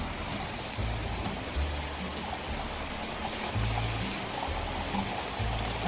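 Fast-running water after heavy rain rushes in a steady, broad, hissing roar that fills the scene, with low thumping rumbles coming and going underneath.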